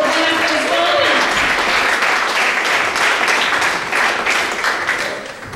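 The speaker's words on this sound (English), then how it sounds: "That was your turn to clap." Church audience applauding together, a dense, steady clapping wash that stays loud throughout and tapers slightly at the end, with faint voices mixed underneath.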